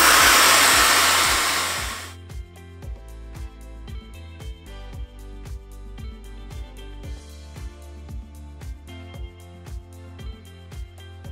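A Dyson-alternative hair dryer drying hair, blowing with a loud, steady rushing roar for about two seconds before cutting off, after which a steady rhythmic beat with tonal notes takes over.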